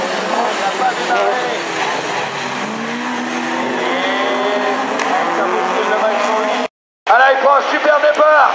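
Rallycross race cars launch from the start line, engines roaring loudly and continuously with tire noise, while a commentator talks excitedly over them; the sound briefly cuts out near the end.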